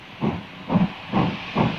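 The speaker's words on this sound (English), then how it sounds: "Steam engines have a personality, and there's the sound." Steam locomotive King George V venting steam in four regular rhythmic hissing chuffs, each a loud burst about half a second apart over a steady background hiss.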